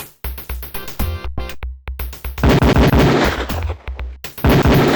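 Beretta pistol shots at a shooting range in the PC game Police Quest: Open Season, a loud rapid string of sharp reports with brief echoing tails, some closely spaced, heard alone without talk.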